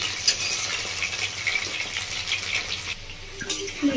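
Cauliflower frying in mustard oil, a steady broadband sizzle with occasional crackles and scraping stir clicks, close and moderately loud with no talking.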